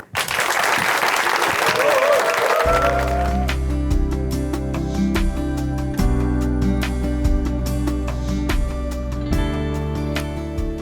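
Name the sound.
audience applause welcoming speaker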